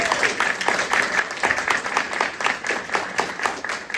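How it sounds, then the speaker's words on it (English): An audience at a community voter forum in Madera, California, applauds the candidates, with loud, close, continuous clapping and distinct rhythmic hand strikes throughout. "I want to give a hand of applause to the candidates."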